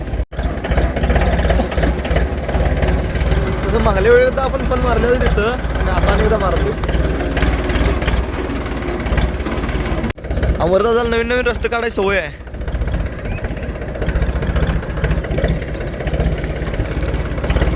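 A tractor that has sat unused in the rain for about a week idles with a steady low rumble after being started, running underneath continuous nearby conversation.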